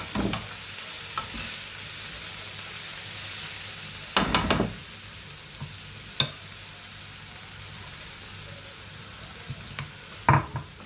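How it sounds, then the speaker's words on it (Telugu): Ginger-garlic paste fries in a pan for a curry, a steady close sizzle with a few sharp scraping clatters of stirring, loudest around the middle and near the end. "ఈ పేస్ట్ పచ్చివాసన కొంచెం పోయేంతవరకు కొంచెం వేసుకుందామండి"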